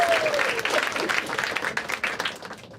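An audience applauds at a stand-up comedy show in an auditorium: loud, close clapping that gradually thins and fades out over a few seconds.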